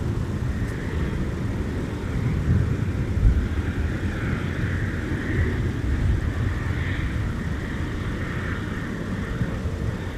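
Airliner departing Minneapolis–St. Paul airport on a winter day, climbing away as a steady broad engine roar with a low rumble that holds fairly constant, moderately distant, with no voices.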